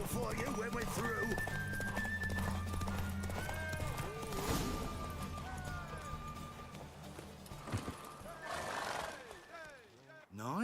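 A horse gallops in a race in the video game The Witcher 3: Wild Hunt, its hoofbeats drumming rapidly alongside occasional whinnies, with game music and voices talking over it.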